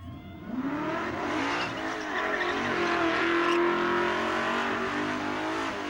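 A burnout car at Summernats roars at sustained high revs, loud and continuous, with a rising engine whine and screeching tyres over a dense crowd-and-smoke backdrop.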